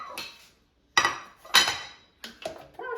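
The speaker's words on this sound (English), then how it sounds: "So let me take it out of the air fryer." Jimmy Dean toaster pop-ups come out of an air fryer with a few sharp metallic clanks and clatters of the basket and tray, separated by short pauses.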